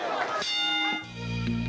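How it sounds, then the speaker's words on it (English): A boxing ring bell signals the start of a round at a 1984 professional bout in Atlantic City, ringing out with a sustained metallic tone over loud arena crowd noise. "Starling lunging out at Curry right from the bell"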